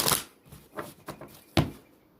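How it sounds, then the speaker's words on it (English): Celtic tarot cards being shuffled in a quick riffle: a sharp burst of card flutter at the start, a few softer shuffles, then one crisp loud snap near the end, close and with no talking. "Just doing a quick shuffle."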